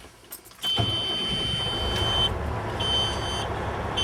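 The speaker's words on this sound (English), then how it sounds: "I'm going to start the truck and put it in gear." A truck engine cranks and starts in the cab during a Class 3 pre-trip check, settling into a steady close idle, with a high warning buzzer sounding on and off over it.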